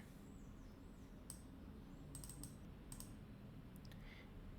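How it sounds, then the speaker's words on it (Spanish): A computer mouse gives a few faint double clicks while opening a database file on a PC. The quick paired ticks are isolated in a quiet room. "Ahora le damos doble clic"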